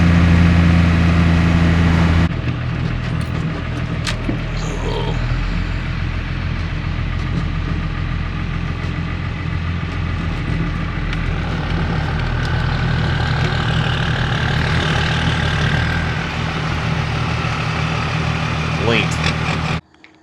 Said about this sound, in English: We got Andy's truck running tonight.